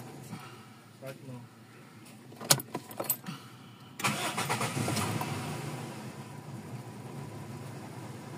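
A Toyota 4A-FE gasoline engine in a car cranks briefly and catches, then settles into a steady, fairly loud running note, with a few sharp mechanical knocks as it starts and people talking nearby.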